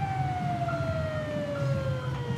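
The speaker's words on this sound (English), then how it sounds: "the ambulance has finally arrived" A wailing ambulance siren in GTA 5, a steady falling electronic tone sounding continuously over low rumbling traffic and engine noise.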